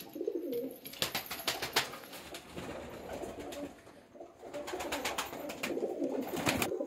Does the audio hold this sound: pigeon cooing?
yes